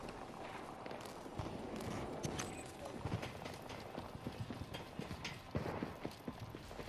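Footsteps in a first-person infantry video game, a run of irregular thudding steps at moderate volume over low background ambience, with no clear talk.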